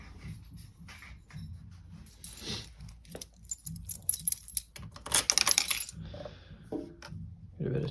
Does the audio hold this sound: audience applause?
no